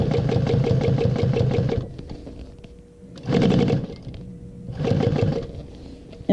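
A sewing machine with a walking foot and needle feed stitches in contrasting blue thread, running in three close bursts with quieter gaps between them.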